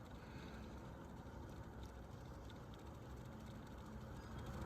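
A vintage box fan running on its low setting gives a steady, very quiet low whir and airy rush, continuous and even with no voices.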